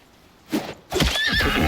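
A horse neighs in a video game, a short whinny followed by a longer, louder, shaking neigh with faint hoof clatter, close and clear with no talk.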